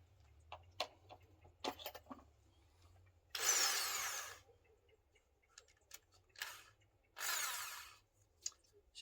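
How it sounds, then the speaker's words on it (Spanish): A small electric drill marks holes in wood while assembling a recycled cinema turntable table, with two loud whirring bursts of about a second each, separated by quiet clicks and handling knocks. "vamos a hacerle con el taladro con el pequeño taladro este"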